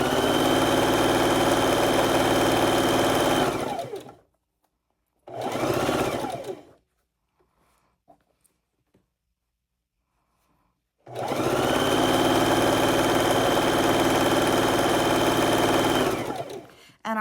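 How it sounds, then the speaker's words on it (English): A sewing machine chain-stitches quilt blocks for a log cabin quilt in three runs of fast, steady whirring stitching, split by pauses where small clicks and handling noises of the fabric are heard. "we're chain stitching them together"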